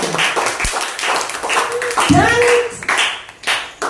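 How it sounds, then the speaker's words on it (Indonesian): Classmates clap for Azarel during a classroom lesson, a short scattered burst of hand claps from a small group, with voices talking over and between the claps. "Berikan tepuk tangan yang meriah buat Azarel"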